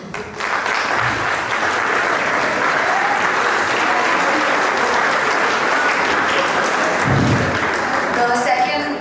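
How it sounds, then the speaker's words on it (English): An audience at a Model United Nations award ceremony at St Joseph's College, Nainital, applauds loudly and steadily for the full stretch, a dense wash of many hands clapping with faint voices mixed in. "everyone can give them a huge round of applause"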